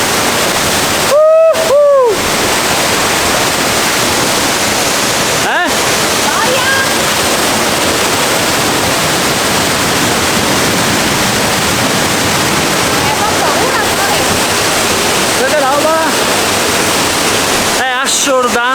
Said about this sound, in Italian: Siamo riusciti ad arrivare sotto la cascata.